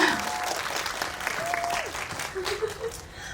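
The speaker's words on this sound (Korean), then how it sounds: "박수 주세요, 여러분." An audience at a Korean film talk event with actors and a director claps steadily for a few seconds, with a voice sounding over the applause.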